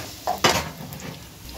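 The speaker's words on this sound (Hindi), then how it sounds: "अब इसमें मैं ये प्याज डाल दूँगी" Onions go into a pan of kebabs frying on the stove, giving a short, close clatter and a stir and then a soft, steady sizzle.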